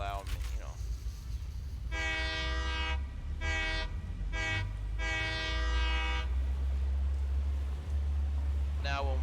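A train horn in a Satisfactory-style rail-building game, sounding in several long harmonic blasts of varying length over a steady low rumble of rolling train noise.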